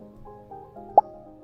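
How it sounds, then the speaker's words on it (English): A single short pop sound effect from a Scratch game, a bright plop near the end over a faint low background tone, with no talk. "So I got a pop sound for that one."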